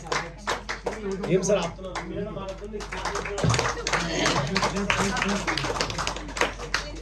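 A group keeps clapping hands in a steady one-two rhythm at a leadership training session, sharp repeated claps close by, with a voice speaking over them partway through.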